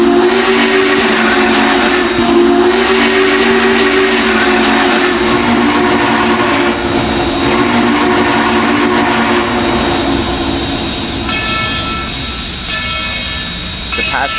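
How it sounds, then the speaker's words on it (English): Denver & Rio Grande Western steam locomotive 14, running with engines 18 and 290, departs a station with a long, loud whistle tone that holds through the start, then rolling rail noise that fades slightly toward the end. "18, 14, and 290 depart the train station."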